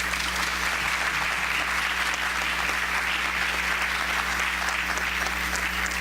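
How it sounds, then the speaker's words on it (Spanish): An audience at an economics lecture in the Dominican Republic gives sustained, even applause to welcome a speaker, with a steady low hum beneath the clapping. "Recibamos con un aplauso al profesor Borjas."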